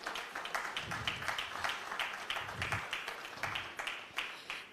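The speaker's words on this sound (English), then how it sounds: "Please, a round of applause for him as he joins up." An audience at a conference applauds, a steady wash of many hands clapping that holds through the whole stretch at moderate loudness, with no voices standing out.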